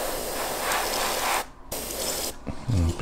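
Aerosol spray paint hisses out in two long, close bursts separated by a short pause, ending with a faint rattle.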